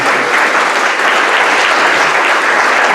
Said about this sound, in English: Let's give Gary a big round of applause too for serving his term.